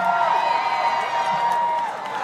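Outdoor crowd at a 2017 March for Science rally in Oklahoma cheers and whoops loudly, a sustained roar of voices that eases slightly toward the end.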